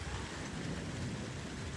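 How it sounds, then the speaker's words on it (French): Thunderstorm in Corrèze with steady heavy rain and a low rumble of thunder, a dense continuous wash of sound at fairly close range with no voices. "J'adore cet orage."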